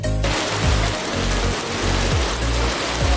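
Steady rain falls in a dense, even hiss of countless drops, loud and continuous, with low rumbling swells underneath and no voices.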